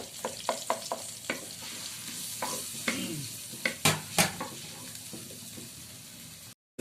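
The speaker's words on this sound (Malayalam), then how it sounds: "ഇഞ്ചി ഇഞ്ചിയും വെളുത്തുള്ളിയും അങ്ങോട്ട് ഒന്ന് ചേർത്ത് ഒന്ന് സോട്ട് ചെയ്ത് കൊടുക്കാം" Ginger and garlic sautéing in a pan for a fish-head curry, with steady soft sizzling and a series of sharp spoon scrapes and stirring knocks, close and moderately loud, no talking.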